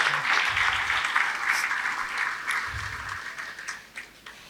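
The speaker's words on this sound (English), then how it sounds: "could we give all our winners another round of applause this evening?" An audience at an annual CEO round table banquet applauds its winners, a dense, steady wash of clapping that swells early and gradually thins toward a few scattered claps.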